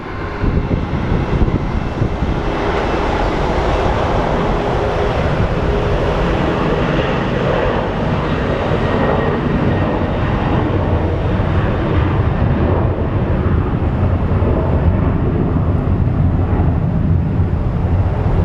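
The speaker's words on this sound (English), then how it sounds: "We have our Southwest flight going to Chicago." Southwest airliner at Phoenix Sky Harbor airport, a loud, steady broadband jet engine roar that holds throughout without pause, dense and rumbling with no talk.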